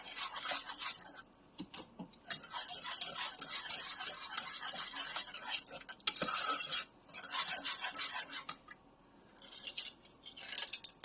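A spoon scrapes and stirs steadily through hot, thick lemon pie filling in a pan as butter is mixed in, a close, soft, rhythmic rasping with brief pauses and no talking.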